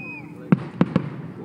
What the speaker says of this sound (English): That was a cool firework.